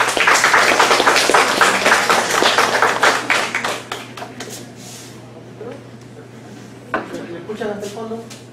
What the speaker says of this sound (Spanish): Demos un aplauso para el doctor César Ábalos Capristán.